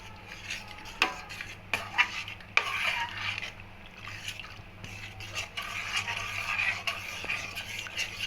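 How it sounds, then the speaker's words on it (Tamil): Ragi payasam with milk being stirred in a pot, a ladle scraping and knocking the metal in an irregular run of clinks and scrapes, close by and moderately loud over a low hum. "இப்போ பாருங்கள், நல்லா கிண்டிக்கிட்டே இருக்கேன்"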